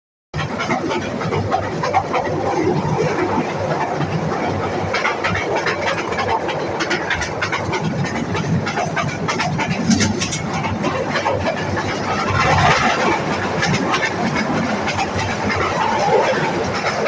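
Inside a moving passenger train on a railway line in Bangladesh: a steady, full rumble of wheels and carriage runs without pause, with recurring clickety-clack rail joints and rattling, close and continuous.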